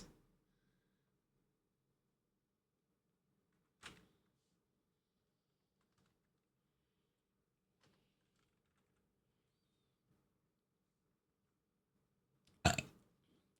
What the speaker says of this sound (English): Oh, I burp.